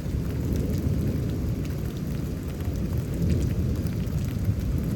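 A Houston thunderstorm with heavy rain, a steady dense hiss of rainfall blended with a continuous low rumbling roar of thunder, loud and sustained throughout with no talking.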